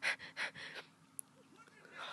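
A person makes quick, breathy huffing pants, a few rapid bursts up close, imitating a panting dog, then fading to quiet.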